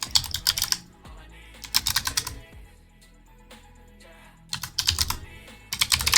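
Typing on a computer keyboard while logging into a Linux server over SSH: bursts of rapid close key clicks, then a pause of quiet, then more fast bursts, with no voice.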